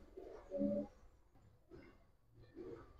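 Giribaz pigeon cooing nearby in soft, repeated low throaty phrases, three bursts with short pauses between them, with no talking.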